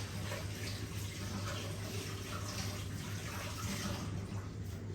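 Hands are washed under a running kitchen tap, making a steady, even rush of water throughout with no talking.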